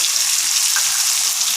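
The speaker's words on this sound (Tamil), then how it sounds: "தண்ணி கொஞ்சம் ஊற்றுறேன்." Water is poured into sizzling masala for tofu sambal, making a steady, fairly loud rushing hiss with a bubbling frying undertone and no voices.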